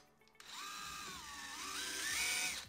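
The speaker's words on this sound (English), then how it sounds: "So I'm putting a center drill in my cordless drill, trying to get pretty close to the center." A cordless drill fitted with a center drill bores into a broken screw, whining steadily for about two seconds with its pitch dipping and rising under load, close and fairly loud with no talking.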